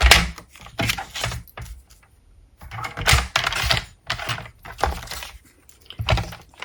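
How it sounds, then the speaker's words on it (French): Paper being cut for a scrapbook page, a series of close, crisp snipping and crunching bursts in an uneven rhythm with short pauses between. "Et je vais le couper"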